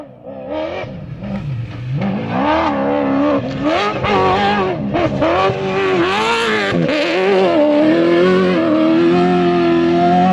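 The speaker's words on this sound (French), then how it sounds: "Le bruit du V8, il est exceptionnel." A 400-horsepower V8 Dakar rally car engine roars loudly and close, revving hard and rising and falling in pitch as it tears past.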